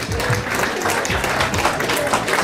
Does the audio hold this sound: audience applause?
yes